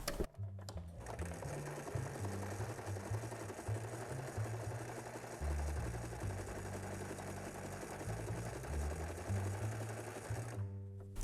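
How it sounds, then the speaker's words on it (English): A sewing machine runs steadily for about ten seconds while stitching a diagonal line, its rapid needle chatter fairly close and continuous, briefly stopping near the start and again at the end. "if we don't go crazy with the pedal and we let the machine just go on what it's doing, it should be okay"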